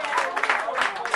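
Short burst of audience clapping at a comedy club show, mixed with crowd voices and a performer speaking over it.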